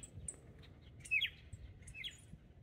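Tufted titmice give scattered sharp chirps and squawky calls, irregular and agitated, moderately close over faint low background noise.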